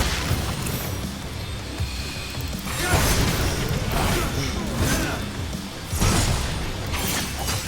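In the Devil May Cry video game, an enemy's shield is smashed apart with loud crashing, shattering bursts and whooshes over a dense game soundtrack, with strong impacts near three and six seconds.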